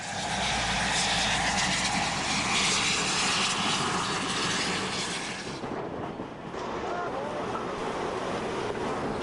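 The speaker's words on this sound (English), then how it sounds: "the noisy exuberance of a steam train's downhill rush is a joy to behold" Steam train rushing downhill: a loud, continuous broadband roar of engine and rail noise throughout, briefly dipping around the middle before resuming at full strength.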